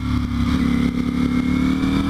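A Ducati Panigale V4 Speciale engine pulls hard under throttle on a canyon road, a loud, steady, buzzing high-revving drone with a gritty mechanical edge heard close up.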